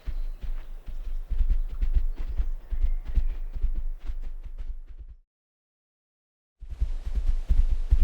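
Steady clip-clop of horse hooves on hard ground, rhythmic and close, pausing for about a second before resuming.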